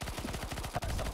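Rapid-fire gunshots in CSGO Zombie Escape, a quick evenly spaced burst of close, punchy shots over about a second.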